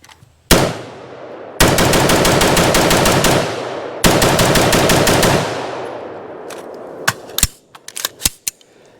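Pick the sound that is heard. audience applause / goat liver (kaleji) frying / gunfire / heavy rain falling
gunfire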